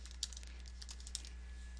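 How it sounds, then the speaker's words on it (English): Fingers tap quickly on a computer keyboard in a run of light, close clicks over a steady low electrical hum, with no one speaking. "We can continue typing"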